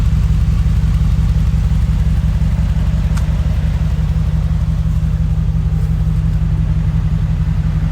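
A Brabus G700 idling through its exhaust pipes, a loud, steady low-pitched rumble that holds evenly throughout, close by and alone with no voices.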